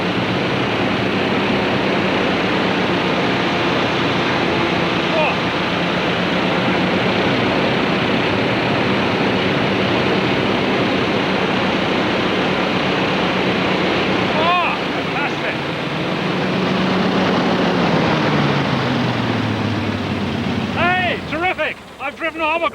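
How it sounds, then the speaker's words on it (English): A hovercraft driven across open water gives a loud, steady broadband roar of fan and rushing air that runs almost unbroken, with sharper chirping noises and a brief dip near the end. "I've driven a hovercraft."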